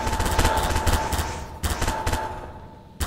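Gunfire in a battlegrounds video game, rapid bursts of shots cracking in uneven clusters, fairly loud and close, with a short pause before more shots near the end.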